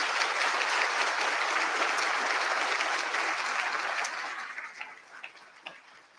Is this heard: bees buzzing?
no